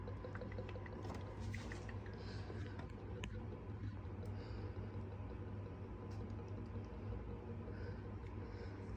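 Bubbly ink pours steadily in a continuous, frothy gurgle with a fine, dense texture, close and moderately loud throughout with no break.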